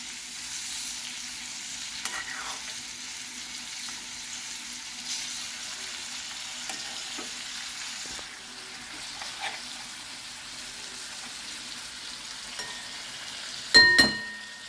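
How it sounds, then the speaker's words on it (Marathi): Pomfret pieces sautéing in masala in a pan for a Goan Saraswat seafood dish, giving a soft, steady sizzle with occasional stirring. A brief louder clatter comes near the end. "हे अशा प्रकारे आपण ते थोडं परतून घेतलं मसाल्यामध्ये."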